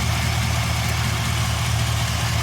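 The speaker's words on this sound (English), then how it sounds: "The truck is running. No fuel is going to the rails. Now it is idling down" A truck engine idling steadily with its fuel relay pulled, so no fuel reaches the rails, a close, constant low rumble that holds even throughout.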